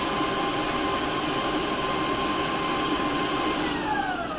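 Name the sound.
electric mixer beating cookie dough on medium speed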